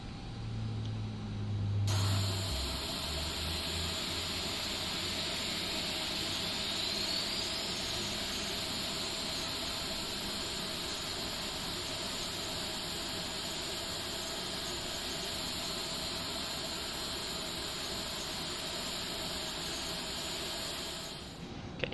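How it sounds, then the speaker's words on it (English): An Airbus A330 engine in a flight simulator game spools up after a brief low rumble, building into a loud, steady jet whine and roaring hiss that holds for about twenty seconds, with no talking. "Starter coming to ignition. Bleed pressure is established, so starting engine number 1."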